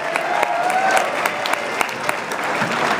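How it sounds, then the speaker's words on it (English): A political convention crowd applauds in a large hall, a thick, sustained roar of clapping with a few sharper claps near the front and some faint cheering mixed in. "A round of applause for everybody that works so hard."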